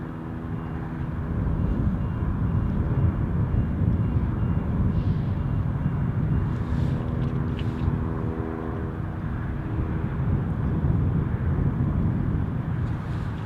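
A Gulf Air airliner at Paine Field produces a continuous, distant jet rumble that holds level throughout, mixed with some wind noise.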